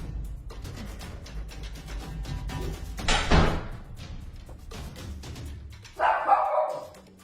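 A dog gives a short bark amid a quiet room, followed later by a louder bark or yelp; a thud-like burst sits in between.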